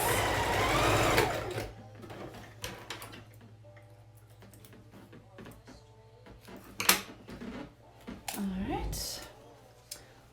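Stitching a quarter-inch seam across the pleats of a child's fabric face mask, the sewing machine runs in short, uneven bursts with ticking and clicking, and a voice speaks over it.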